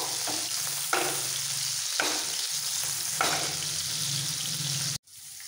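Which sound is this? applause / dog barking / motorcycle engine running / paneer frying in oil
paneer frying in oil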